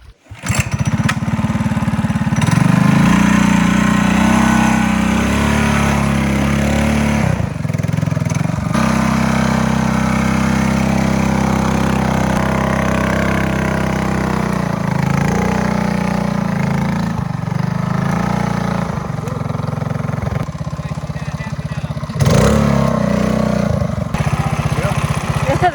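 A mini bike's small engine runs steadily at a rough, uneven idle throughout, loud and close, at an outdoor mini bike gathering, with voices talking over it.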